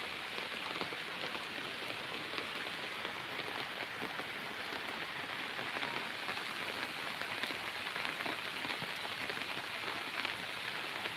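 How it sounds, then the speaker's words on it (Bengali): Heavy rain pours steadily over a village in Muksudpur, a dense, continuous hiss of drops striking surfaces close by, unbroken and loud for the whole stretch with no voices. "অনেক বৃষ্টি অনেক"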